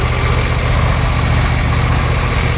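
A twenty-year-old John Deere lawn mower engine runs on non-ethanol premium gas mixed with Seafoam, a steady, loud, close idle with an even low throb and no talk over it.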